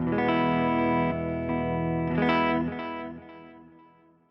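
Guitar through a Fender Tone Master Pro with cloud reverb switched on, sustained chords swelling into a lush, shimmering wash and then slowly trailing away over several seconds.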